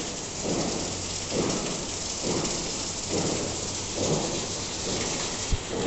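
Heavy, steady rain pours throughout, with low rolling rumbles of thunder swelling and fading several times in the background.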